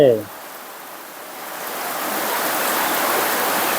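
Heavy rain pours steadily on and around a house, a dense hiss that swells slightly after a brief opening voice.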